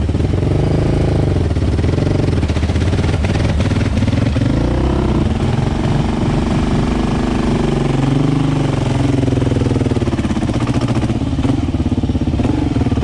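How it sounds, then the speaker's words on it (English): A motorcycle engine bounces loudly and continuously off its rev limiter, a rough, stuttering roar held at high revs for the whole stretch, with no pause and no voices. "that's the rev limiter"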